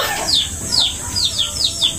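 Several short, rising bird calls repeat in quick succession, like hens clucking nearby, over a faint background hiss.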